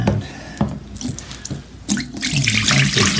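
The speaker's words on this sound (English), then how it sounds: "dump this water out and see how dirt comes in" Water splashes and pours out of a container after washing mason bee cocoons, a loud, continuous sink-like rush with brief gurgles and drips, alone without talk.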